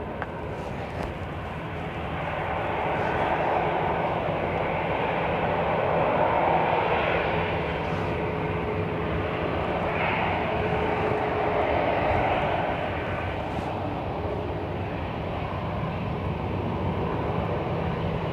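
Aircraft engines roar steadily at Dublin Airport in windy weather, a broad swelling rumble that builds and eases twice as jets move about the runway, with gusting wind noise beneath and no talking.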